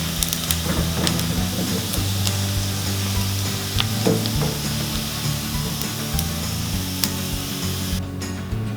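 Pork belly fries with shrimp paste in a pan, a loud continuous sizzle broken by scraping and clacking stirs and taps of a utensil, close and steady with no talking.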